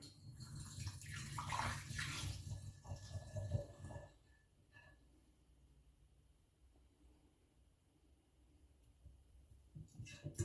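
Orange liqueur, a homemade curaçao, pours into a big bottle with a splashing gurgle for about four seconds, then the liquid sound drops to a faint trickle and quiet handling.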